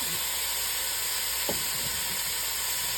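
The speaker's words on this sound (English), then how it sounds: "We're going to saute up the onions and celery and the carrots." Onions, celery and carrots sauté in a touch of oil in a soup pot, a loud, steady, unbroken hiss of frying that carries through the whole stretch.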